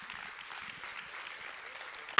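Applause from a church congregation on a baptism Sunday, a soft, continuous patter of many hands clapping at moderate distance, even and unbroken until a sharp knock at the very end.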